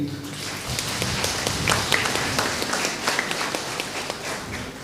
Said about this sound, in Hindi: कृपा करके एक बार हमारे पारिश काउंसिल के सभी सदस्यों के लिए ताली बजाए